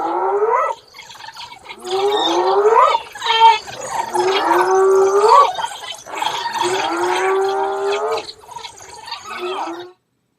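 Wild dogs make high, warbling chirps and twittering calls in a continuous, overlapping stream, near and fairly loud, with no other sounds.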